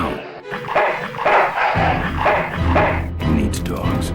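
Dog barks in the Full Throttle Remastered PC game, a few sharp yaps mixed with growly whimpering sounds under a voice.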